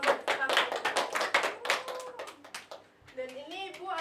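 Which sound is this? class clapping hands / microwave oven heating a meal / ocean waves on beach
class clapping hands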